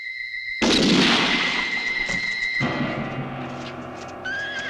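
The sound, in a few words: gunshots in a western film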